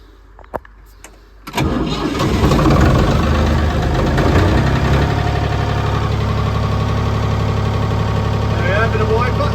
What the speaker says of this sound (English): And I bring that in with the tractor.